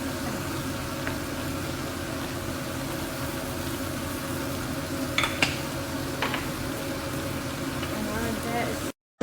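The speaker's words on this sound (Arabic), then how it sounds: "بعد ما حمست الدياي مع البهارات" Chicken sautés with spices in a pan, making a constant hissing sizzle with a few sharp clicks of a utensil, then cutting off abruptly near the end.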